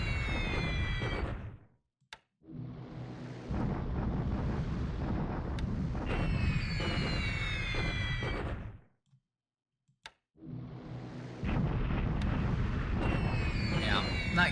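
Bombing explosions in War in the Pacific roll out as long, loud rumbling bursts with crackling debris, separated by brief silences.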